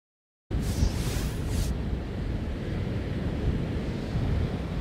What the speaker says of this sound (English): And right now, wind speeds picking up.